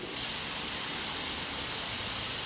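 A coffee machine's steam wand purges dry steam in a steady, loud, unbroken hiss that runs evenly for the whole stretch with no voices.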